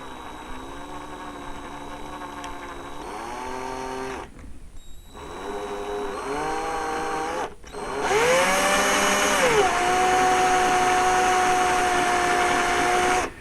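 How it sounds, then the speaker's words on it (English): A small power drill whirs in several bursts while drilling a hole in a broken toy gun peg, its pitch rising and falling as it spins up and bites, with brief pauses between runs. "I'm just going to use a small drill bit and slowly drill out a hole."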